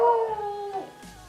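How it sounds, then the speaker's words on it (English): A neighbour's dog gives a drawn-out howl that slides downward and breaks off, followed by a short whimpering yip, close and clear with no talking. "That's not my dog either, that's the neighbour's dog."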